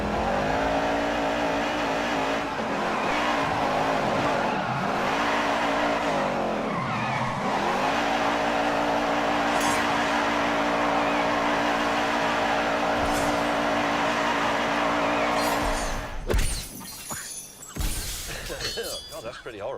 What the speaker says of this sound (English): Traction off. I'll just make wheel spin. Wheel spin, that just makes a huge amount of noise.